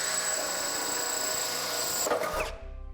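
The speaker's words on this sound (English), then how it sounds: "we'll be taking a 1/4-inch drill bit and drilling through the back side of the bumper support" A drill boring a 1/4-inch hole through the back side of a bumper support on a 2012 Cadillac SRX, a steady high whine for about two seconds that cuts off abruptly and winds down.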